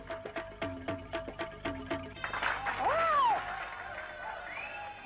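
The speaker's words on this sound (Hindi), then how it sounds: "ये बीन की आवाज कहाँ से आ रही है?" A snake charmer's been pipe in an animated cartoon plays a repeating reedy tune of short, evenly spaced notes for about two seconds, then a brighter rising-and-falling whistled glide sounds over a busier background.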